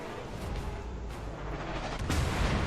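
A naval artillery barrage from the Soviet cruiser Stalingrad in World of Warships rumbles as a steady, dense roar of heavy gunfire and impacts, swelling louder toward the end with a sharper burst near the close.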